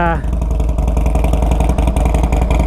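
A tuned Harley-Davidson Forty Eight motorcycle engine runs loud and close with a steady, throbbing lumpy beat, pulsing evenly throughout with a brief rev at the start.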